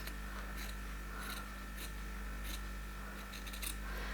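Scissors snip slits into a cotton tank top in a run of crisp, quiet cuts, roughly a few per second at irregular intervals, over a low steady hum.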